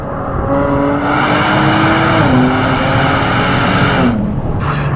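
A Nissan Z sports car engine revs hard and climbs in pitch through its first three gears, with brief dips at each shift; loud, close and continuous.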